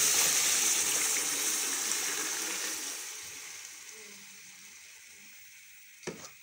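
Ground masala hits a hot pot with chicken cubes, setting off a loud hissing sizzle that fades steadily, followed by a brief clatter near the end.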